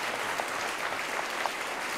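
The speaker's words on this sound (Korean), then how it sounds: "박수로 맞아주시면 좋겠습니다." Steady applause from a seated audience at an academic conference welcoming a guest, a dense, even wash of many hands clapping at moderate distance, continuous throughout with no voices on top.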